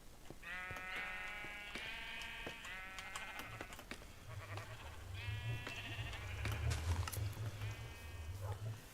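Sheep in the Minecraft video game bleat in a string of repeated, wavering calls, several overlapping, over a steady low game hum that swells in the second half.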